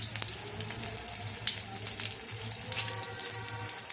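Washed mustard flowers drain off water in a kitchen, giving a steady close trickle and splash like running tap water, continuous with brief louder spatters and no talking.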